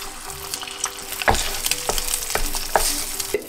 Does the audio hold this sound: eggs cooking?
yes